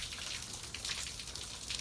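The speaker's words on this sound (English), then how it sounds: "It's raining off the side, which is kind of neat because it proves that the ceiling does not leak." Rain runs off the edge of a rebuilt pop-up camper roof, a steady, hissing patter and trickle of water that goes on without a break through the whole moment.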